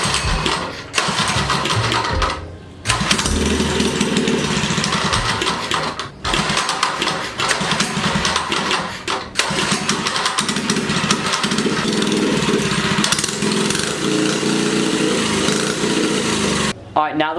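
A Motovox mini bike's small gas engine is pulled to life and then runs loudly and continuously up close, a raspy buzzing drone with a few brief dips, largely alone.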